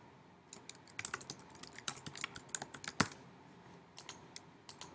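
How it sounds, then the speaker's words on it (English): Rapid, irregular clicking of computer keyboard keys typing in bursts, fairly close and crisp, with short pauses between runs of keystrokes and no talking. "I'm going to go ahead and type in my first theory"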